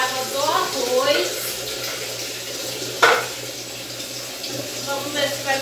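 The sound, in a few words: water poured into enamel-patched pot for cooking rice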